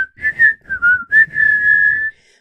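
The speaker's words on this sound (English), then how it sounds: "he's scheming, it's like the Pink Panther theme." A person whistles the Pink Panther theme in a few short, clear phrases that end on a long held note, loud and close, with no talk.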